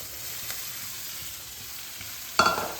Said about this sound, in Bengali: এবার আমি ভেজে রাখা আলু আর ডাঁটাটা এর মধ্যে দিয়ে দিচ্ছি